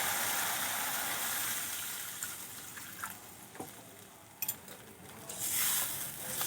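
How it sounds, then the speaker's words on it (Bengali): Water is poured into frying mustard spice paste for a Bengali fish curry: it splashes into the sizzling pan, the frying hiss softening as it goes in, followed by a few clinks of stirring. "এখন আমি দিয়ে দেবো জল"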